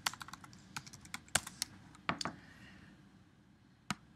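Irregular, crisp keystrokes on a computer keyboard as text is entered for a button in a FireMonkey app style editor, close and clear, thinning out to a lone final tap with no voices.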